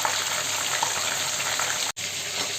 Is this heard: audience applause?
no